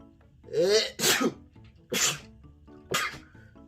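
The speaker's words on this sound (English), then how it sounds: "have to sneeze, but I don't know why." A person sneezes three times in close succession, each a sharp burst after a quick intake of breath, loud and close.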